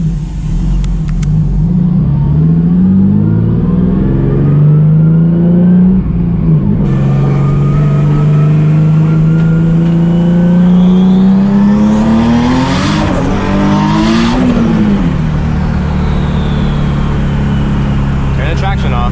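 A 900 hp Nissan 370Z street car with a loud engine holds a steady, heavy drone while the pitch rises and falls as it revs and accelerates, close and continuous throughout.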